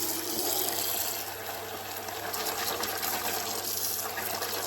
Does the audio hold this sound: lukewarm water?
yes